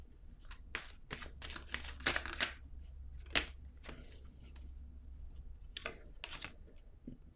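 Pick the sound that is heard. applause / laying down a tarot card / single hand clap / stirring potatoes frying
laying down a tarot card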